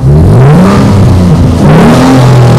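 A Morgan Roadster's 3.7-litre Cyclone V6 revs up and settles, then climbs again, a loud close engine note rising and falling over a couple of seconds with no voices.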